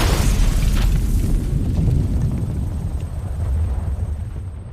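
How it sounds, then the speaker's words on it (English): A bomb goes off inside a house in a film scene, a loud broadband booming roar that rumbles heavily and slowly fades away, with no voices. "suddenly, a bomb exploded"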